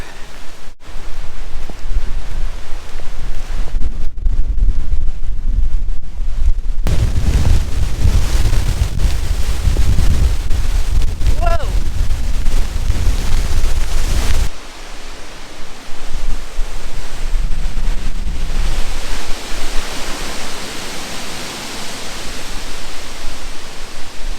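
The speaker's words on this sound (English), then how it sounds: "All the trees still have their leaves. They catch a ton of wind." Strong storm wind roars through leafy trees in rural France, a loud, continuous rushing noise that surges and eases, with some rain-like hiss mixed in.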